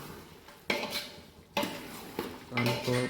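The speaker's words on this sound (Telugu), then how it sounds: "పసుపు వేసి ఒకసారి రౌండ్ కలుపుడు" Metal utensil scraping and knocking against a pot while wild boar curry with turmeric is stirred, three clattering bursts with a faint ringing tone at the end, no voices.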